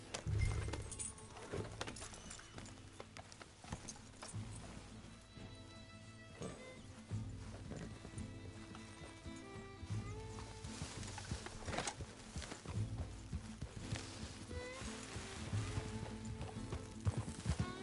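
Horse hooves clip-clop steadily over a long stretch in Red Dead Redemption 2, mixed with busy game sounds and a brief whinny, with no one talking.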